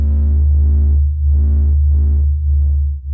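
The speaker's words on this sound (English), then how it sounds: "This is the sound of the sun singing." Sun's pressure oscillations sped up into audible sound, a deep droning hum with throbbing, swelling overtone pulses that rise and fade in slow waves, loud and steady.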